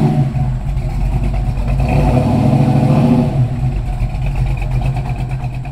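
A Dart car from Hammerdown Motorsports accelerates quickly, its engine close and loud, climbing in pitch through the middle of the run and then easing off, with no talk.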